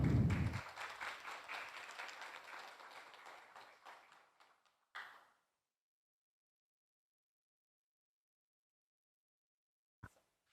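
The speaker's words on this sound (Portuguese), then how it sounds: "Uma salva de palmas." Applause from a forum audience at a university event, a dense round of clapping that thins out and fades over a few seconds, then a last burst followed by silence.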